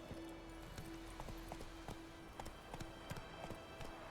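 Horse hooves clip-clop steadily in The Witcher 3 video game, a quiet even rhythm of sharp taps over a soft ambient bed.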